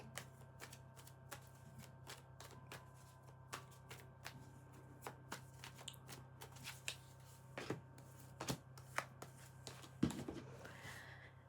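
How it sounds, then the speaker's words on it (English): Tarot cards are shuffled by hand in a run of quick, crisp riffles and taps, close and fairly quiet over a low steady hum. "Hold on, I'm going to do a couple more shuffles."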